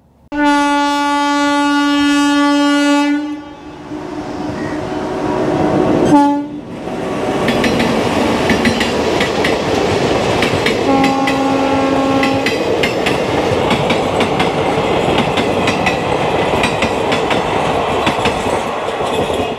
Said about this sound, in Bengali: এটা প্রচণ্ড বিজি একটা রেলওয়ে ক্রসিং।